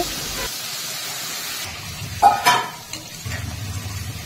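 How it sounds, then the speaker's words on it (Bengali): Spices frying in a pan as a spatula stirs them, a soft hiss and sizzle with a sharp scrape and clatter of the utensil midway, close and moderately loud, no talking. "সমস্ত মশলা খুন্তি দিয়ে এইভাবে ভালো করে মিশিয়ে নেব"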